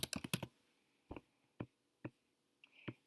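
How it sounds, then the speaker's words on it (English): Computer keyboard keys clack in a quick burst of several taps, then a few isolated single presses follow at uneven gaps, close and quiet. "so type in your name"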